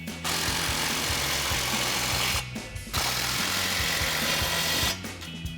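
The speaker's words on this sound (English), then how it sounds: "you're going to grab a 16mm socket to tighten down your clamps" A ratchet and socket works the exhaust clamps on a 2024-2026 Mustang GT, a dense, continuous mechanical rattle running close and loud, broken by two brief pauses.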